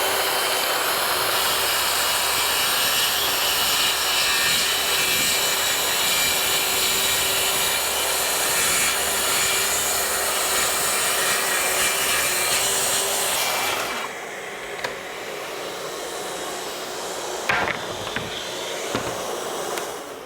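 A power saw cuts through expensive oak plywood held by a trigger clamp, a loud steady whine for about fourteen seconds before cutting off, leaving a quieter room with a few faint knocks.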